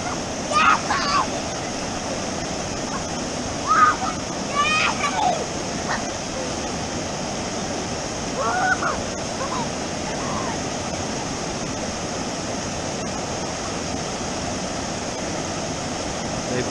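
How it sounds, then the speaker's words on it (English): Steady broadband rush of a small waterfall built from logs on the Laurel Fork of the Holly River, a trout stream below a swimming hole, continuous throughout with a few faint voices and splashes over it. "They put logs here to make this waterfall, make these deeper holes for the trout."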